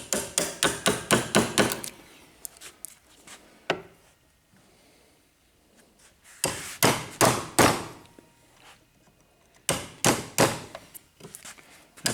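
Steel chisel struck repeatedly with a hammer while chipping out a cavity for an oil stone, sharp close taps in quick bursts separated by quiet pauses.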